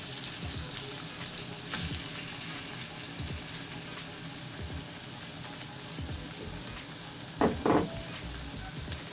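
Chicken pieces fry with caramelized onion in a pan for chicken and mushroom ciulama, a steady moderate sizzle with scattered stirring scrapes and a brief louder clatter near the end.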